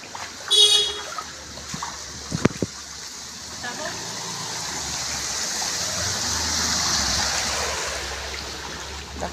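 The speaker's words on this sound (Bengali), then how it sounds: "জলের ঢেউটা দেখা একবার শুধু" Flood water rushes steadily through a residential lane after heavy rain, a broad continuous wash that swells slightly toward the end, with a few brief voices and a sharp knock near the start.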